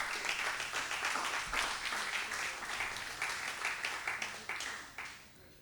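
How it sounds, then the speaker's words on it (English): An audience at a memorial lecture gives a round of applause, steady clapping at moderate volume that fades out over a few seconds, with a faint voice starting at the end. "I think that deserves a round of applause"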